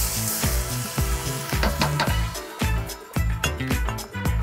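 Crushed tomato and white wine go into a sizzling vegetable sofrito for a Mediterranean-style vegetable curry: a close, loud frying sizzle broken by rhythmic clanks and scrapes of stirring.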